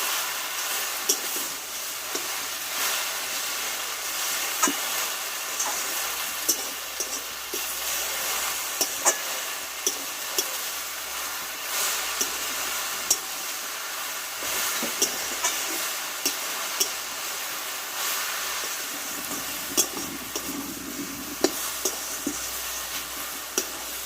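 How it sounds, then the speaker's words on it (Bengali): Jute leaf greens cook in a pan with a soft, steady hiss and sizzle, broken by light stirring scrapes and occasional faint clicks, quiet and continuous with no talk. "দেখো বন্ধুরা এইভাবে নাড়াচাড়া করতে করতে কিন্তু শাকটা একেবারেই নরম হয়ে যাবে"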